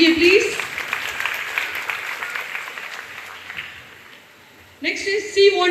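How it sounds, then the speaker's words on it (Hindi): An audience at a youth achievement awards ceremony claps to welcome an honoree to the stage, the applause fading gradually over several seconds before an amplified voice returns near the end. "तालियों से जोरदार स्वागत कीजिए प्लीज।"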